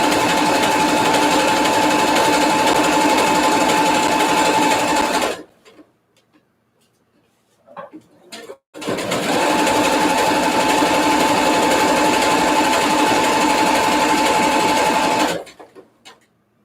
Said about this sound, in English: Like I'm going the absolute fastest I can go right now on this machine, which is very slow.